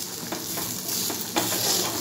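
Bitter gourd sizzles and fries in a pan while being stirred, a steady close hiss with scraping stir strokes scattered through, louder toward the end.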